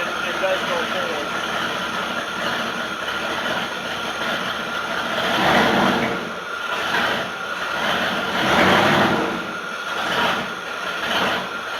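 Ford 460 engine idling in a rat rod dually truck, a steady continuous rumble that swells slightly at intervals, with someone talking over it.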